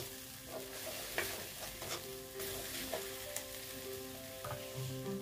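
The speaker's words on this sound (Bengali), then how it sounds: "একটু কালারের জন্য কাশ্মীরি লাল লঙ্কার গুঁড়ো, একটু জাস্ট কালারের জন্য দিলাম, দিয়ে একটু ভেজে নিচ্ছি" Kashmiri red chilli powder fries in a pan for a katla fish mustard-poppy seed curry, a close, continuous sizzle broken by soft scraping stirs, with no voices.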